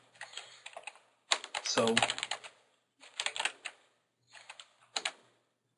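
Bursts of fast clicking keystrokes on a computer keyboard as a terminal command is typed, coming in several separate runs with pauses, close and clear, with a brief spoken word near the start.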